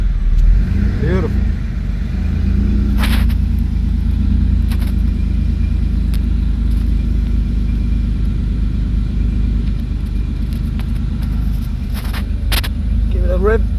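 A Porsche 964 with a newly installed performance chip idles after its first start-up, a steady low engine rumble running throughout, with a few brief sharper noises and faint voices over it.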